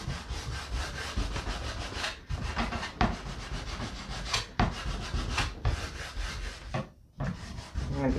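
Sandpaper rubs back and forth over layered paint on a wooden surface in a close, loud, scratchy rhythm of repeated strokes, with a few brief pauses between passes.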